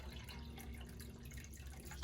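Tap water runs and trickles into a measuring cup for homemade pizza dough, a steady close splashing flow with no talk over it.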